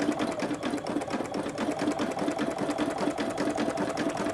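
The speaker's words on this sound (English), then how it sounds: "It's beautiful sewing machine from 2003." A Brother ULT 2003D embroidery sewing machine stitches metallic thread steadily at high speed, a fast even mechanical whir with rapid needle ticks running continuously, with no voices.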